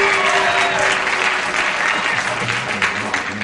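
A studio game-show audience applauds steadily and loudly throughout, a dense wash of clapping with a faint sustained tone early on.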